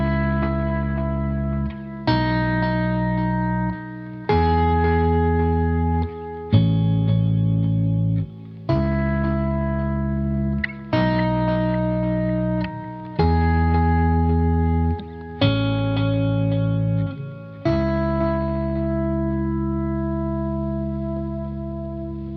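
Electric guitar played through a Boss OC-5 octave pedal that adds a lower bass octave under the lowest note. Nine or ten sustained, ringing chords are struck about every two seconds, thick and full, with no talking.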